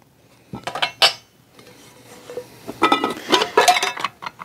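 Metal pot and bowl pieces of a Boy Scout mess kit are handled close up, clinking and clattering in scattered bursts with quieter pauses between.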